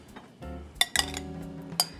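A metal utensil stirs black beans and roasted sweet potatoes in a dish, giving a few light clinks and scrapes in quick succession, close and quiet.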